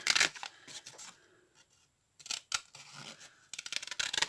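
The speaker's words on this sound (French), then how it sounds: "Je vais juste mettre un petit coup de ciseau en biais comme ça." Scissors make an angled snip into folded paper during a craft project, producing a few close, crisp cutting and rustling sounds broken by short silences.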